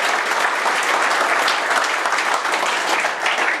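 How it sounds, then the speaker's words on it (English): An audience at an evening tester gathering applauds its lightning-talk speakers, a loud, dense and continuous round of clapping from a roomful of people with no voices over it. "So a round of applause for the flashers!"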